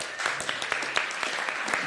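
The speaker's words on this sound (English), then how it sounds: "Come on, clap your hands" A church congregation claps along in a brief, fairly quiet burst of rhythmic hand claps, with voices mingling underneath.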